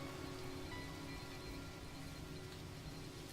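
Acid rain falling steadily on a toxic swamp planet in the No Man's Sky video game, a constant soft hiss of rainfall, faint and unbroken.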